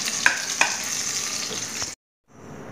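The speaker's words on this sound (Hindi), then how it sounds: "हमने चारों तरफ से लहसुन को अच्छे से फ्राई कर लिया है" Garlic fries in hot oil in a pan with a steady, close sizzle and a couple of utensil taps, then cuts off abruptly before a fainter sizzle returns.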